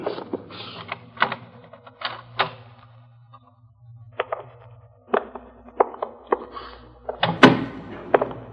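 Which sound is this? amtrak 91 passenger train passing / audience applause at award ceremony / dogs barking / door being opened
door being opened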